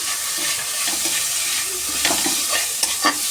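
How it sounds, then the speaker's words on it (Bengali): Roasted spice powders of dried red chili, cumin and coriander with a pinch of sugar stirred and fried in a pan for a cauliflower filling, a steady sizzle broken by scraping stirs and a few louder spoon knocks near the end. "একটু কষে নেব"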